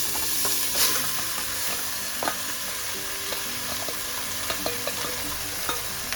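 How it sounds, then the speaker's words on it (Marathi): Mutton sautés in ghee inside a pressure cooker over low heat, giving a steady, close sizzle with scattered metallic stirring clinks and scrapes and no talking. "मटन मटण जे आहे ते याच्यामध्ये परतून घेणार आहे"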